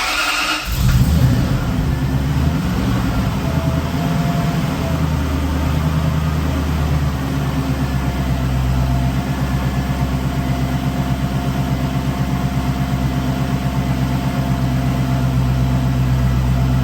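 Volvo fitted with a rebuilt supercharged Toyota 3UZ V8 engine running after a brief start-up burst, settling into a loud, steady idle with a constant high supercharger whine over the rumble.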